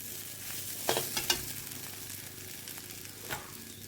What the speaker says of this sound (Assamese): मैं तीता केरेला और आलूखिनि 2 পৰা 3 मिनिट टाइम मचमचियाके भाजी ललो